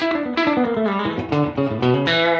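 Guitar played through an amp tone from a UAFX Enigmatic '82 pedal with room sound, a loud run of plucked notes and chords with slight distortion and a roomy ambience, no talking.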